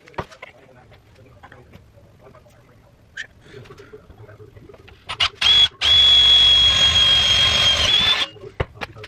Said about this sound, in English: So we go ahead and mark it marked, and I'll go ahead and drill that out.